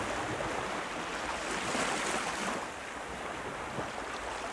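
Steady ocean surf wash fills the background of a calm sleep relaxation track, a continuous broadband hiss of waves with gentle swells, no distinct voice present.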